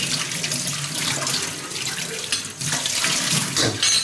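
Water runs steadily from a tap, splashing loudly into a sink as a freshly cleaned pot is rinsed, a close continuous gush with small shifts in splash as the pot moves; nobody speaks.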